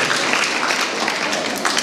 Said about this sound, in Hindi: आप सभी का भी जोरदार तालियों से स्वागत करेंगे